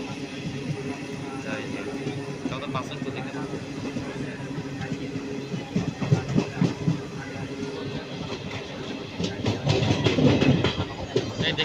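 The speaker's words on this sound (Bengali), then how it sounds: "দেখো যখন মেট্রো যাচ্ছে তোমরা দেখতেই পাচ্ছ যখন মেট্রো" A metro train rolls past with a steady rumble and rhythmic clatter of wheels, growing louder toward the end, while someone talks nearby.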